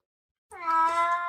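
A single cat lets out one loud, close meow with a clear harmonic tone, starting after a brief silence and holding steady to the end.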